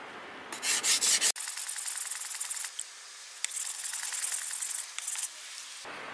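An usuba knife's bevel is ground against a whetstone in close, loud rasping strokes, with short bursts at first and then long, steady scraping runs broken by brief pauses.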